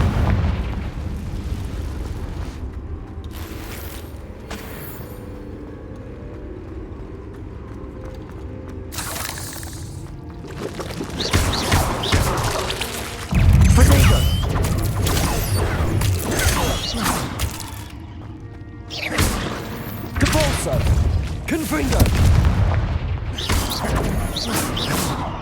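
Confringo fire spell explosions in Hogwarts Legacy, a series of booming blasts with crackling bursts and debris layered over game music, growing louder and denser partway through.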